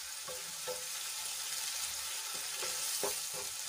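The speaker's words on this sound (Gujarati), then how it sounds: "તો ડુંગળીને આપણે સરસ રીતે સાંકળી લઈશું" Onions fry in hot oil until golden brown, a steady close sizzle broken by a few soft stirring scrapes, with no talking.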